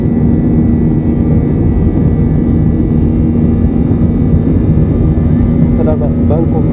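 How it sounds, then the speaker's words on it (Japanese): A Thai Smile airliner taking off from Bangkok on a flight to Chiang Rai, heard from inside the cabin as a loud, steady engine roar that holds without a break throughout. "お、いよいよ離陸。"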